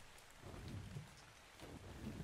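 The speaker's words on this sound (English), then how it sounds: "Why is it raining right now?" Steady rain hisses in the video game ARK Survival Evolved, a continuous low wash with faint rumbling underneath, no voices.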